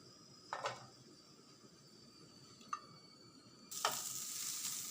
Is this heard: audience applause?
no